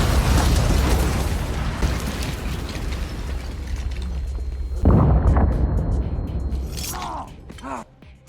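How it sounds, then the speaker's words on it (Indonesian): A loud explosive burst as a bomb destroys a car, with debris and rumble, fading into a jolt and a second blast midway, then scattered crashing and settling noise. "Tiba-tiba bom nyasar meledak di lokasi itu, menghancurkan mobil"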